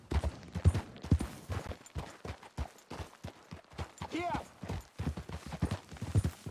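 Horse trotting in the video game Red Dead Redemption 2, a rhythmic clip-clop of hooves under a voice and game sounds.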